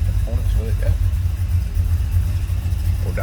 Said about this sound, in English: See how easily it starts.